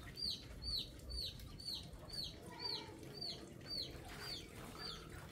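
Chickens and chicks on a cloudy day peep in a regular series of high, sharp calls over low, soft clucking and background rustle, close by.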